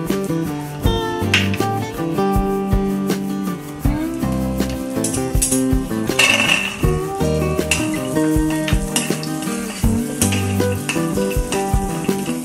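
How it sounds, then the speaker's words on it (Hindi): Cashews roast in butter in a pan, giving a continuous sizzle with occasional stirring clatter, close and fairly loud beneath background music. "अब हम थोड़े से काजू को रोस्ट कर लेंगे। थोड़ा सा बटर ऐड करेंगे।"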